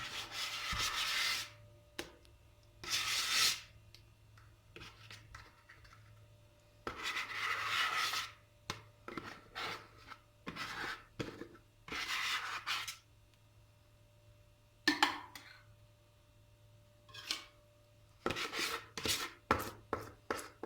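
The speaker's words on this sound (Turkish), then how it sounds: "borcamın içindekini spatula ile düzelteceğim" A spatula smooths cake batter in a glass baking dish for a cat-tongue cake, giving intermittent close scraping and rubbing strokes with quiet gaps between them.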